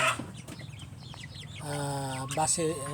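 Pure Basilan and Asil breed chickens, two roosters and four hens, cluck and call close by in a short burst of layered, harmonic bird sounds, with a voice speaking under them.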